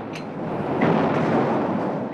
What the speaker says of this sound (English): the guns of 200 Allied warships began their bombardment